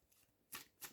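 Tarot cards are shuffled in two quick, crisp riffling bursts close up, with near silence between them and no talking.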